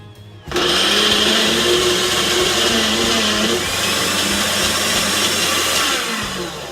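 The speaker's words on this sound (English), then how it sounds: "we're gonna go ahead and start the blender" A blender runs continuously, loud and close, crushing frozen blueberries with agave nectar and a little almond milk for an açaí bowl, its motor roar holding steady for about six seconds with rattling chunks.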